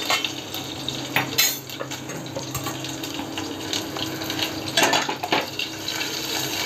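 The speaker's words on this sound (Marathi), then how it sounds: "चांगलं असं ढवळून घ्यायची आपल्याला फोडणी." A tempering of crushed garlic, curry leaves and turmeric is stirred in a pan, with irregular metal scraping and clinks of a spoon against the pan over a steady hiss, close by and without talk.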